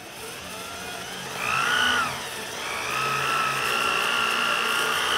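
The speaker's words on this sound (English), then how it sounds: "The next day I whip out the orbital sander and spend some time just sanding off the rest of the paint" A steady mechanical whir of an orbital sander sanding paint off a jon boat, running continuously, with a brief higher-pitched rise in the middle before settling back to an even drone.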